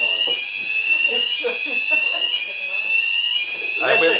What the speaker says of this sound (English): I think that's a false alarm